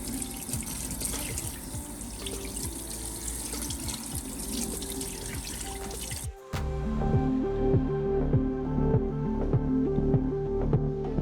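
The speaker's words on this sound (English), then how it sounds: "So I've got the salmon pretty much nicely rinsed off here." Running tap water pours over brined salmon in a kitchen sink, a steady close splashing stream; midway the flow cuts off and gives way to quieter drips and wet squishing as the fish is handled.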